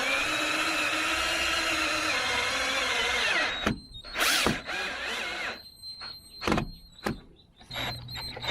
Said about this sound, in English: Now we just pre-drill the holes and drill in the screws